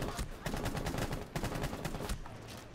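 Repeated gunfire in Rainbow Six Siege, a steady rattle of fairly faint shots in quick succession with short pauses, a voice briefly audible in the background.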